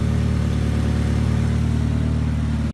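A Mighty Max truck with a swapped 4G63 engine and custom 3-inch exhaust idles steadily, a close, even low rumble with no misfire that cuts off abruptly at the end.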